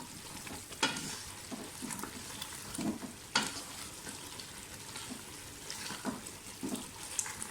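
Mutton sizzles as it fries in a pan for a tomato meat curry, with repeated scraping stirs of a spoon every second or so over a steady crackle, close and with no talk.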